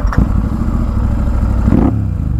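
A Royal Enfield Super Meteor 650 with a twin Red Rooster aftermarket exhaust cranks and fires up close by, settling into a loud, chugging idle before a brief blip of the throttle.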